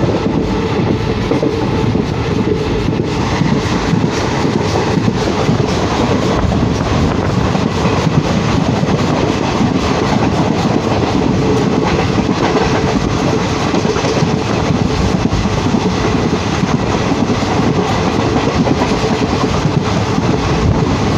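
A train runs on rails through the Dooars region toward Kalchini station, its steady loud rumble and rhythmic clickety-clack heard from onboard, continuous and close, with no talking.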